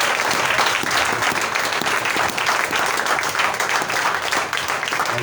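A church congregation applauds to welcome its pastor, a loud, dense and sustained wash of clapping from many hands filling the room.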